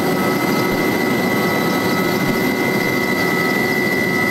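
A helicopter flies over flooded mountain villages near Sochi, its engine and rotor producing a loud, continuous roar with a steady whine that stays constant throughout.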